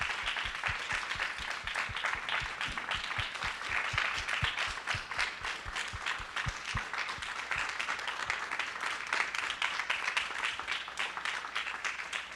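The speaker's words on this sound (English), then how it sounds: "please join me in a round of applause for these incredible people" Audience applause at a civic storytelling event, a dense steady wash of many hands clapping continuously at even loudness throughout, with a few sharper individual claps standing out near the front.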